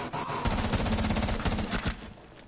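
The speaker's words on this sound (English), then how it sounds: "you could absolutely load bullets into people with this gun" A P9 sidearm fires a fast volley in a console shooter game, a rapid string of close, punchy shots lasting about two seconds.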